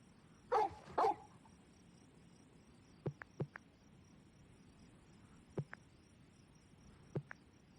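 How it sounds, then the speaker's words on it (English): Dogs in the Orwell's Animal Farm PC game bark twice, loud and close, then scattered faint ticks and clicks follow over a quiet insect-like hum. "The dogs wake up full of energy."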